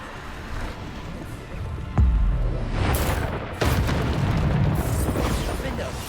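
Booming Bombarda spell explosions in a magic video game burst out twice, heavy and close, over a continuous rumbling background while a voice repeatedly chants spell names.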